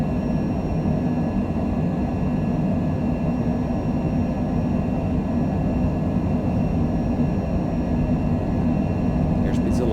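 Cessna Citation Longitude business jet taking off from Las Vegas, a steady loud engine roar and rumble filling the cabin throughout, with no clear changes in pitch or level.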